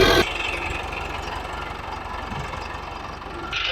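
A tractor engine idles steadily while a trolley is loaded with sand in a Punjab village, a low, moderately close rumble running unbroken through the stretch.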